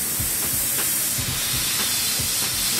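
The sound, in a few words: airbrush spraying paint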